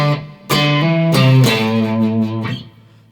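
A short electric guitar lick with overdrive: a few picked and bent notes in quick succession, then a held note that fades out.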